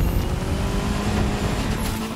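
A Volkswagen Golf GTI accelerates on a road trip through the USA, its engine roaring loud and close in one continuous, steady drone with no talk over it.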